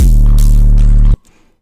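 An 808 bass in FL Studio Mobile, a single loud, deep sustained tone lasting about a second before cutting off abruptly, close and alone with no talking.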